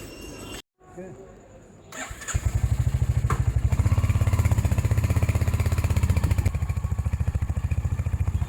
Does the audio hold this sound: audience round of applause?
no